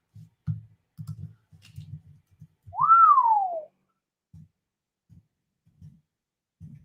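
A livestream sound effect plays a single rising-then-falling slide whistle, clear and fairly loud, over scattered soft keyboard clicks.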